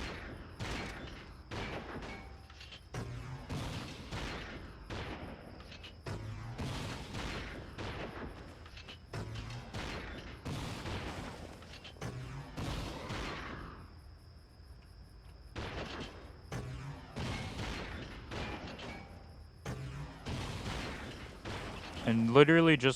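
Weapons fire in rapid bursts during Ratchet & Clank: Up Your Arsenal gameplay, with repeated sharp blasts and shots in quick succession, interrupted by a brief lull midway.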